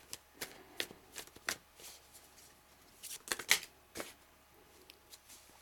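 Tarot cards are shuffled by hand, making a run of quick, crisp riffling slaps and flicks, some in tight clusters and some spaced apart, close up and fairly quiet, with no talking.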